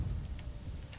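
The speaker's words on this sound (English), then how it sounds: "Thunder." Thunder and rain in the video game Morrowind, a brief low rumble with steady rain hiss over one second, moderately loud, no voices.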